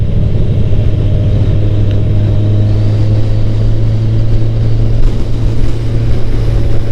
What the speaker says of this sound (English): The wind here is like so strong. It's like hard to keep the motorcycle steady here.